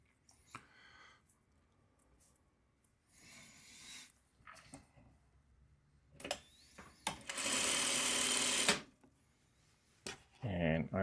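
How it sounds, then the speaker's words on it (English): A sewing machine stitches fabric squares together, with one long steady run mid-clip framed by short start-stop bursts and light handling noises around it. "let's just sew this together"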